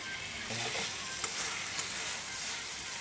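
Tomatoes and spices sizzling steadily in a pan for chicken curry with potato, with a couple of soft scrapes from stirring and no voices over the constant frying hiss.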